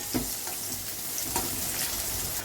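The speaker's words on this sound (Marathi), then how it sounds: "आता त्यामध्ये आपण जिरं आणि कांदा परतून घेऊया आपण." Cumin and onion sauté in reused vegetable-frying oil for a vegetable dum biryani, producing a quiet, even sizzle with a few faint stirring taps, no voices.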